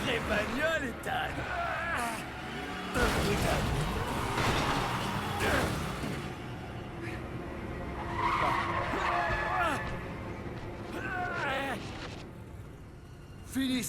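Tires squeal and skid as a car engine revs in a Resident Evil 7 game scene, with screeching bursts recurring over several seconds, mixed with game sound effects and a voice talking.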